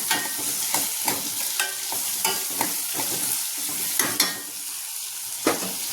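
Onions frying in a pan for onion lemon rice, a continuous close sizzle broken by regular sharp scrapes and clacks as the pieces are stirred.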